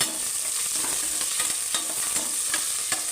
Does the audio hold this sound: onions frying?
yes